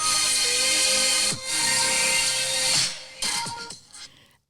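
Announcer audio remixed with an upbeat song, a bright, full electronic track with sustained synth tones that dips briefly, then fades out in broken, trailing fragments.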